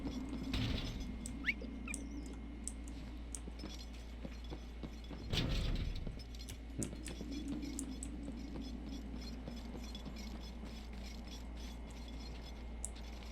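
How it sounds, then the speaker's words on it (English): Light clinking and rattling of chains around a character's feet in the Valiant Hearts video game, faint scattered metallic ticks running throughout over a quiet ambient backdrop, with one louder scuffle partway through. "I still have chains around me. I was wondering what that sound was."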